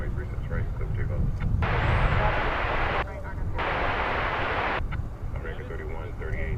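An Alaska Airlines jet taking off from runway 36 right at DFW Airport, a broad engine roar throughout, with radio voice transmissions breaking in over it in bursts.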